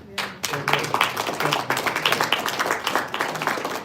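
Applause and clapping from a gathered audience at a Denver meeting, honoring police officers, with several bursts of hand claps mixed with voices talking throughout.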